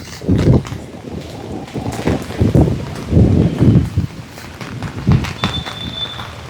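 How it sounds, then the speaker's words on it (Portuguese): Strong gusty wind on the Copacabana beachfront, buffeting the microphone in loud, uneven bursts that rise and fall, with a faint high tone near the end. "Eu fui pra orla e o vento chegou."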